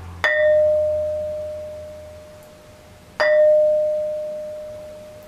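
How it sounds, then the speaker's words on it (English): Two sharp strikes on a stone that rings like a bell, each leaving a clear, steady tone that lingers and slowly fades over several seconds, close and loud. "You realize that this thing really rings like a bell and it reverberates for"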